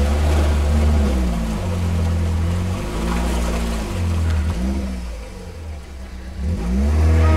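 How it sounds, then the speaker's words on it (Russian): A Lada Niva off-road vehicle on a hard off-road course revs loudly and continuously. The engine pitch rises and falls as the throttle is worked, with no talking over it. "Сейчас посмотрим, как турбанутые поедут всякие Шестнари."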